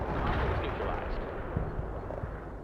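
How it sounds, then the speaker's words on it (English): Artillery strike in the war video game World in Conflict, a brief burst of deep rumbling explosions and crackling impacts, loud and close, rolling on for a couple of seconds. "Perfect artillery hit."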